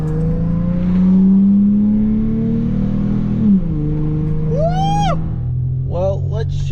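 A Toyota engine fitted with a new cold air intake revs up loudly, rising and swelling, then falls back to a rumbling idle while a person exclaims and talks over it.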